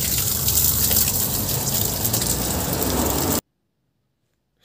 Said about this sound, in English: I am watering the plant